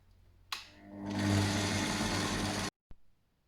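An electric stand mixer whirs up loudly and runs at a steady, grinding drone, kneading brioche dough, then shuts off abruptly followed by a small clunk.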